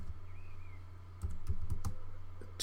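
Several distinct key presses on a computer keyboard over a low steady hum, quick uneven clicks clustered in the second half, close and fairly quiet.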